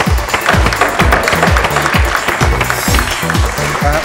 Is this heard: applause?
yes